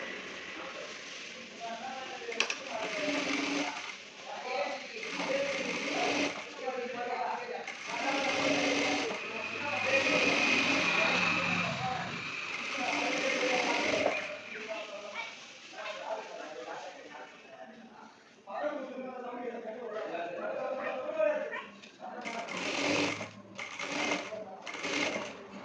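Sewing machine stitching along the edge of shirt collar cloth during coat-collar shirt tailoring, heard as a steady mechanical whir in bursts under ongoing talk, with pauses between runs.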